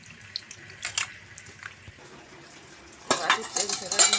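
Sweet potatoes and ordinary potatoes being washed in water, with clattering of dishes and splashing in a bowl, quiet at first and then a louder, busier burst of rinsing and sloshing toward the end.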